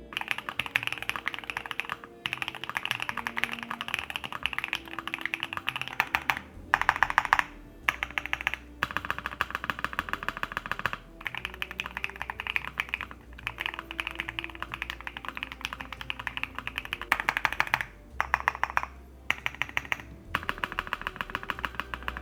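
Rapid, steady clacking of a Luminkey75 mechanical keyboard with SOT switches being typed on, with brief pauses between bursts and a low hum underneath.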